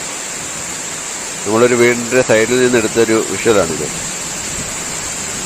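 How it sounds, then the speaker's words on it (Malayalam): Heavy rain falls steadily beside a house in Kerala, a dense, even hiss that runs through the whole stretch while someone talks over it for a few seconds in the middle. "നല്ല അടിപൊളി മഴയാണ്, അതിൻ്റെ ഒരു വിഷ്വൽ നമ്മൾ എടുത്തതാണ്."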